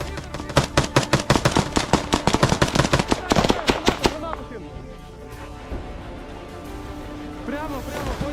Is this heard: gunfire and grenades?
yes